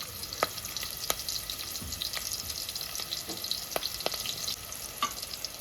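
Curry leaves sizzle and crackle steadily in hot oil with green chillies for a mutton and drumstick curry, sharp pops and spits over a continuous frying hiss.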